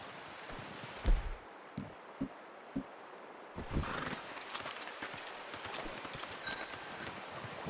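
Horse hooves clip-clopping at a walk in the Red Dead Redemption 2 video game, a few distinct hoof thuds early, then steady softer footfalls with rustling, moderately close and fairly quiet, no talking.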